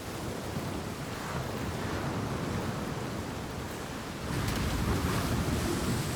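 Ocean waves surge below a cliff in the video game Hellblade II, a steady, loud wash of surf and wind that swells slightly toward the end, with no voices.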